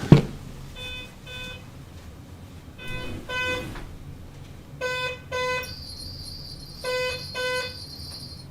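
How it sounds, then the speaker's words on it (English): An electronic buzzer in a fishing game beeps in short bursts of tonal pulses, in pairs and clusters with gaps between them, fairly loud and clear over a quiet background, ending in a higher sustained tone. "I'm gonna go put that buzzer on silent."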